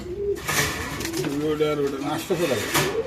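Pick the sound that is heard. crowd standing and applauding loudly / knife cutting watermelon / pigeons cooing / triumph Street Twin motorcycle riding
pigeons cooing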